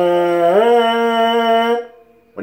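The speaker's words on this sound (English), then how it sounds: "on the mouthpiece, it just, by itself, it just sounds like this" A trombone mouthpiece buzzed on its own without the horn gives a thin, reedy tone that slides up and then holds steady for over a second, close and loud, before a brief second buzz.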